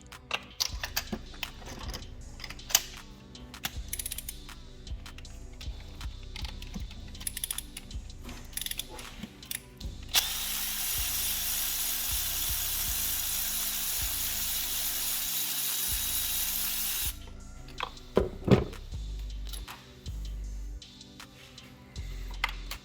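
Ratchet with a 5/8 spark plug socket loosening spark plugs on a 2015-2017 Mustang 3.7 V6 Cyclone engine, with scattered close clicks and mechanical taps, then a long steady hiss for several seconds in the middle, and no talking.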